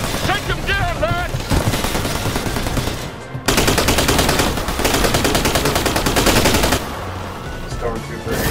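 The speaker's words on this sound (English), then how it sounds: "Covering fire!" Heavy rapid gunfire in the Tales from the Borderlands game, loud overlapping automatic bursts with a short pause midway, a voice shouting over the start and battle noise throughout.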